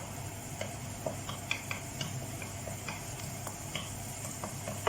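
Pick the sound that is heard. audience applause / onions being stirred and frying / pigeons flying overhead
onions being stirred and frying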